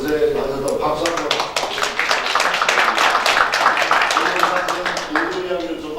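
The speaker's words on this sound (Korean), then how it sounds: "고생하셔서 박수 한번." Meeting participants at a political party's special committee session on the GM Gunsan plant closure clap together in a dense, steady burst that lasts the whole stretch, with voices talking underneath.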